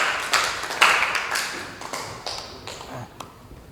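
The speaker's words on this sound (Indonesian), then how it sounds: "Kita berikan aplaus dulu di kelompok" A class applauds a student group. There is a brief burst of light, scattered clapping that fades over a few seconds.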